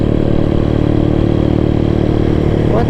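A CB motorcycle engine runs steadily and loudly up close, a rough, throbbing rumble with rattling clatter throughout.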